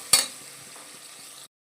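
Chopped onion frying with soybeans in a pan: a sharp stirring scrape at the start, then a faint, steady sizzle that continues until an abrupt cutoff.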